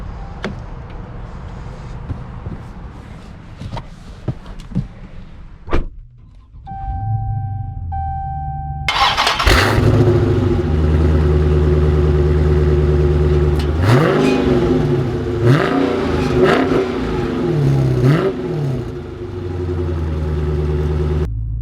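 A 2020 Dodge Challenger Scat Pack Widebody fires up with a loud burst, settles into a deep steady idle, then revs hard several times in rising and falling blips, close and loud with no one speaking.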